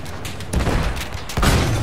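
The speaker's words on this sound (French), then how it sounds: "mieux vaut éviter ces tirs" Gunfire from the single-player campaign of the video game Battlefield 1: dense bursts of shots and booms crackle loudly, with a sharper burst near the middle and another near the end, no voices.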